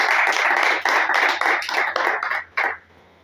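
Audience applause at a Hindi poetry gathering honouring teacher-poets, a burst of clapping from a seated crowd that swells, thins into scattered claps and ends with a final short flourish before fading out.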